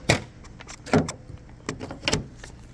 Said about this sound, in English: Let's get under here and pop the hood.